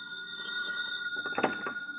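A telephone rings as a sound effect in a 1945 radio espionage drama: a steady electronic tone that is briefly interrupted by a clattering burst near the end, with no voices.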